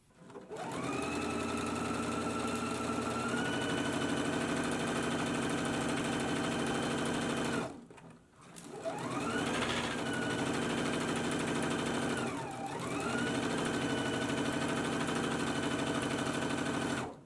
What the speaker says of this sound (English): Now I'm going to go to the sewing machine and I'm going to stitch at a 3/8 of an inch seam allowance